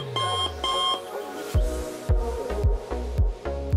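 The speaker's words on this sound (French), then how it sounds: "Donc mon réveil, il est fixé à cette heure-là." An alarm clock rings in a home morning routine, a repeating electronic beep pattern, loud and close, pulsing in steady bursts while some soft knocks and handling sounds mix in.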